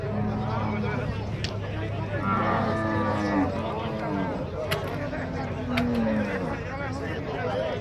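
Cows moo repeatedly at a busy cattle fair in Tabira, Pernambuco, with several drawn-out calls at close range rising over a steady murmur of people talking.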